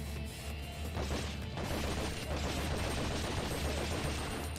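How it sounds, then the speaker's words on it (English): Rapid bursts of gunfire from the PS2 game Resident Evil Outbreak, a dense, continuous volley of shots with crashing impacts filling the whole stretch, loud and steady with no talk over it. "I think I shot Jim several times"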